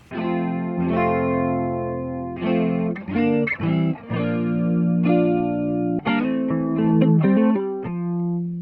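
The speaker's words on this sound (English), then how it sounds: "Now let's hear the chorus in that stereo spot." Electric guitar chords and short melodic phrases through a Korg PME 40X chorus effect in stereo, shimmering and doubled, played loudly and continuously with no one speaking.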